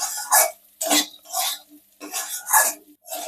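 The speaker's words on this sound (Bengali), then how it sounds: "সবগুলো মিশিয়ে নিচ্ছি এইভাবে" Dal and spices being stirred and fried in a pan, a ladle scraping in repeated bursts of rough, sizzling friction at a steady rhythm, close and fairly loud with short pauses between strokes.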